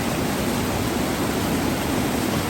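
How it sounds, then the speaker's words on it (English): Mountain waterfall pouring beneath a wooden walkway on a trail near Lake Solitude in the Grand Tetons, a steady, dense roar of rushing water filling the whole clip close by, with no voices. "another beautiful mountain waterfall under a wood walkway."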